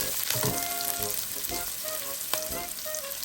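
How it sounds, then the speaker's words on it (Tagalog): Onions and garlic sizzle steadily in a hot pan and are stirred until brown, with a scrape of utensil against metal now and then. The frying sounds close and moderately loud, and no one speaks. "So you need to stir it until the onions and garlic is turned brown."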